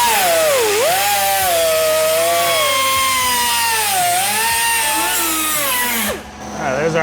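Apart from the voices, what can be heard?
cut-off wheel cutting through rusted roof metal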